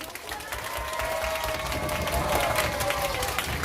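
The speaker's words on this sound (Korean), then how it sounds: "자, 박수" A crowd of elementary-school children claps enthusiastically and continuously at a church service prize-giving, dense applause filling the room with a few cheers mixed in.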